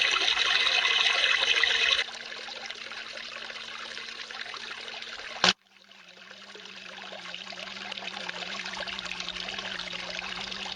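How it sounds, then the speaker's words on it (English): Water streams over the slick plate and riffles of a sluice box in a constant gurgling flow, briefly cut by a sharp knock midway before the flow resumes. "here you can see how the water comes off from the top of the slick plate. Then it has to rise to go over the top of that little higher riffle"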